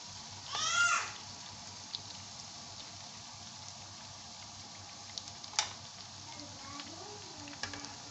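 Potato kebabs fry in hot oil with a faint, steady sizzle throughout, broken by a few brief louder sounds and small clicks.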